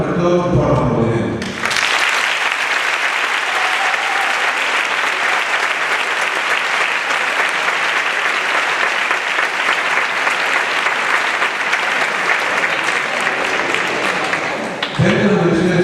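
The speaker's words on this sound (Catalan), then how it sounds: "Per això demano per tots un fort aplaudiment." Loud, sustained applause from a large audience for a graduating baccalaureate class at a school ceremony, a dense unbroken roar of clapping for over twelve seconds, with brief speech just before it begins and as it ends.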